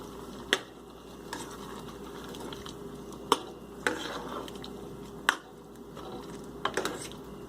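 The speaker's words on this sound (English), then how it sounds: "Give a nice stir." A spoon scrapes and clacks against a pan of Punjabi dal makhani in intermittent strokes, with sharp metallic taps over a faint background hum.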